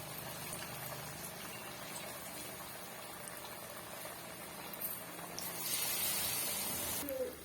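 Vada sizzles and bubbles steadily in hot oil, a soft continuous frying hiss close by, swelling slightly louder near the end.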